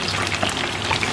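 Garlic, ginger and shallots fry in oil left over from searing beef, giving a steady, loud, crackling sizzle throughout with no voices.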